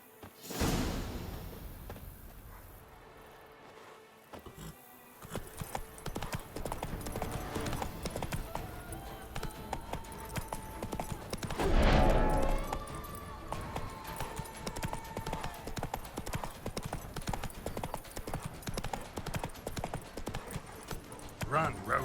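A horse gallops in The Witcher 3 video game, with rhythmic hoof clip-clops coming in quick, steady runs and a brief whoosh midway, while a person talks over the game.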